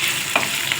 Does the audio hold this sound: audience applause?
no